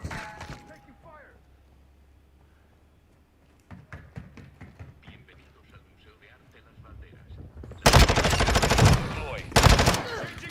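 Gunfire in Call of Duty Modern Warfare II with the Vaznev-9K, quiet mechanical handling and light taps giving way to loud rapid bursts of automatic fire near the end, with talk in the background.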